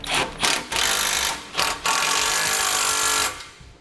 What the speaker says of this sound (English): We can come back with that 13mm socket and snug up our hardware